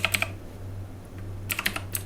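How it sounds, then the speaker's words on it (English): Keys on a Redragon Kumara mechanical keyboard with tactile clicky switches clack in two short bursts of sharp, bright clicks, close up over a low steady hum. "Here we have the keyboard with tactile clicky switches, as you can hear here."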